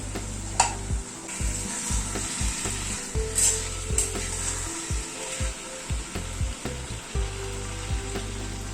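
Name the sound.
potato, carrot and beans frying and stirred in a pan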